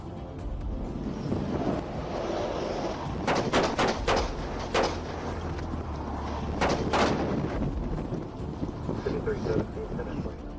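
Gunshots fired during a traffic stop: a rapid cluster of sharp cracks followed a few seconds later by more shots, heard over steady wind noise on the microphone.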